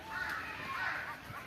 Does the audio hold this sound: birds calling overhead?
yes